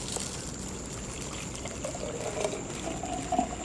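Juice being poured into a container indoors, a faint, steady trickling stream with small splashes near the end, heard alone.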